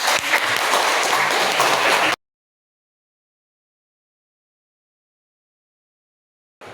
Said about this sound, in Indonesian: Iya, berikan aplaus terhadap